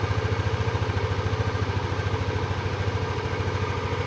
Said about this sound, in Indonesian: Nah ini motornya sudah menyala ya.